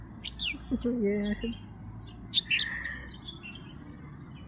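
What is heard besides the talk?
bird chirping in a village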